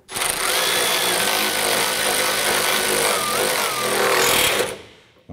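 A power tool runs steadily while tightening a radiator bracket nut on a 2009-2015 Honda Pilot, a continuous loud whirring buzz with no pauses that cuts off abruptly near the end.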